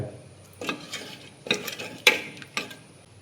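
Coconut oil poured into ash gourd curry in a home kitchen, with a few soft stirring scrapes and light clinks of a utensil against the pot, close and fairly quiet.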